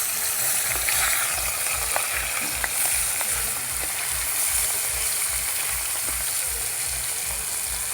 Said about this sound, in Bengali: মাছগুলো এরকম ভেজে তুলে নেব